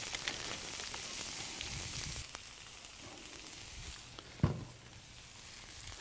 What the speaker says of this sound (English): We're gonna toss them in here and we're gonna saute these.